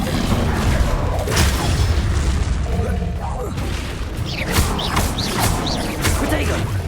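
Confringo and Bombarda spell blasts in Hogwarts Legacy, heavy booming explosions and crashing impacts in quick succession amid loud combat noise, with a voice shouting over them.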